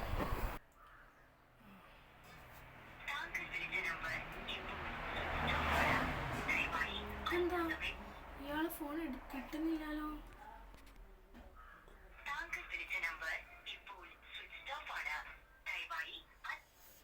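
A telephone rings on a call to a cloth seller's number, with a repeating ring tone in two stretches while a voice talks in between.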